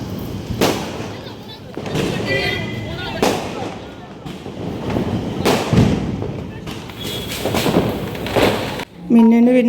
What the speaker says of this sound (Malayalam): മിന്നുവിന് പിന്നെ പടക്കം പൊട്ടിക്കാനും പടക്കം പൊട്ടുന്നതും കാണാനും ഒക്കെ ഭയങ്കര പേടിയായതുകൊണ്ട്